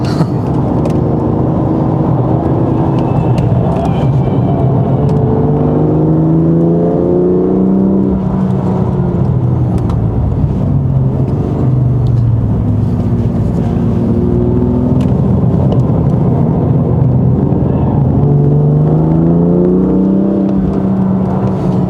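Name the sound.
BMW F87 M2 Competition engine accelerating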